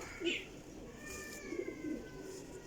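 Domestic pigeons coo in a loft, a few soft low coos spread across the moment over a steady hum of background noise, with faint talk nearby.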